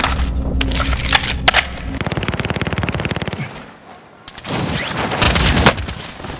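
Video game gunfire from Call of Duty Warzone: loud, close automatic weapon bursts with rapid regular shots, separated by sharp single cracks and heavier booms, followed by a brief lull and another dense volley.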